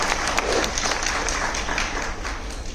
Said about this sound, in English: Big round of applause for Raju, sir.